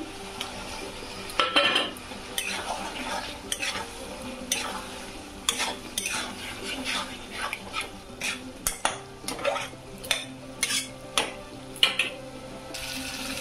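Whole eggs tossed into a curd-based spice masala for egg kosa are stirred in a pan, with repeated scraping and clinking of a spoon against the metal over a soft frying sizzle. The strokes are close and steady, with no talk.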